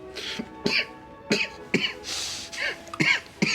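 A man coughs repeatedly in a domestic scene, giving a series of sharp, close coughs and throat-clearing bursts at irregular intervals, with a low hum underneath.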